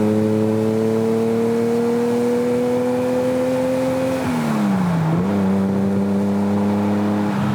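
A Ferrari Daytona engine revs up under throttle, a loud steady tone that climbs, dips briefly as revs drop, then settles and holds, close and continuous with no talk.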